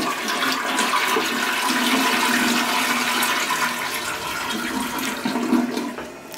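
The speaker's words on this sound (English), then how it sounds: "We'll flush it." A hotel bathroom toilet flushes with a loud, close, continuous rushing of water that swirls and drains for several seconds without any talking.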